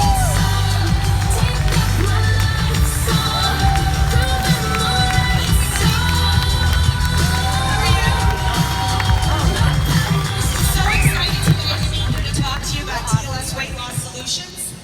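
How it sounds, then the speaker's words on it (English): Conference audience giving a loud welcome, dense cheering, whooping and clapping sustained for about fifteen seconds, with shouts rising over a steady crowd roar and a low rumble beneath. "Please give a huge Mideast welcome to Jessica Mashad."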